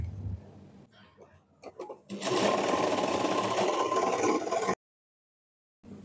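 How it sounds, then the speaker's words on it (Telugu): A sewing machine stitches blouse fabric in a steady loud run of about two and a half seconds before stopping abruptly, preceded by a few brief clicks and some talking. "ఒక స్టిచ్ వేసేసుకుందాం"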